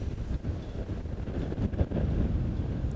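Heavy wind buffeting an outdoor microphone at a disc golf course during a tournament round, a steady low rumble with gusty swells throughout and no clear voices.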